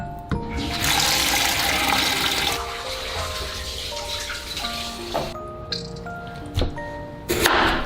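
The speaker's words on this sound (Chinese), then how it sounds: "然后用清水冲洗2遍" Pork ribs are rinsed under running tap water in a bowl, with a steady, close splashing flow that shifts as the ribs are moved and then briefly stops near the end. No one speaks.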